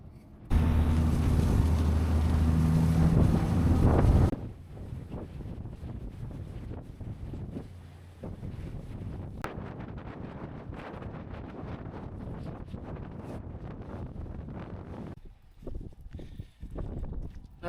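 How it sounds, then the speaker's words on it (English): Strong wild wind buffets a microphone on the deck of a ferry bound for Orkney, a loud steady roar with gusty low rumble and the hum of the boat, no voices. "staying out of the wild wind that's up here"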